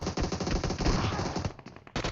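Rapid automatic gunfire in a mobile battle royale game, a dense rattling burst of shots lasting about two seconds with a brief pause before firing resumes.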